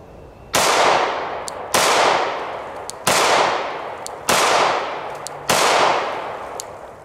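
A handgun fires five loud, sharp shots at a steady pace, each followed by a long ringing decay, with no voices.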